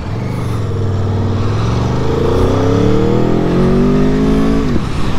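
An Aprilia Tuono V4 1100 motorcycle is ridden near a ski area, its engine droning loudly and steadily with rising revs as it accelerates, wind rushing throughout.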